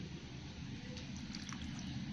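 Water poured into a paste of coconut, green chili and poppy seeds, a steady low trickle and splash running the whole way at moderate level.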